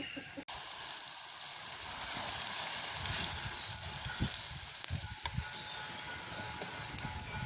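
Boondi drops frying in hot oil for pani poori in a village kitchen make a soft, steady sizzle. Faint clicks and knocks from the utensils come through over the constant bubbling.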